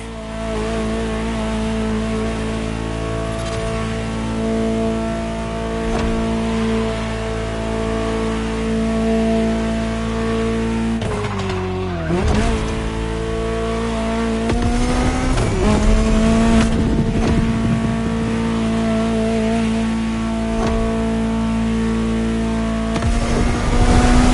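A high-revving Ferrari supercar engine in a racing video game drones steadily, its pitch dipping and climbing through gear shifts, loud and continuous with occasional tire squeal.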